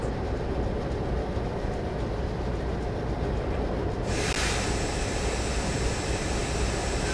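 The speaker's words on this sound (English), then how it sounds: "The train smoothly slows for the upcoming speed limit." A train slows down in a train driving video game, giving a steady broad rumble of rail noise that brightens with a hissing lift partway through.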